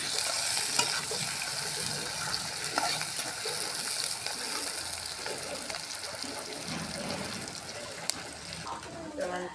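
Garlic, green chili and onion fry in a pan with a steady, close sizzle and scraping stir strokes throughout, fairly loud and continuous, with a faint voice in the background.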